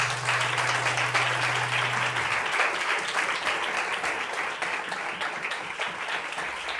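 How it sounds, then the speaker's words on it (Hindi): A church congregation claps for Jesus during a sermon, a broad wash of many hands clapping continuously and fairly loud, with a faint low hum early on. "जरा यीशु के लिए तालियां बजाओ।"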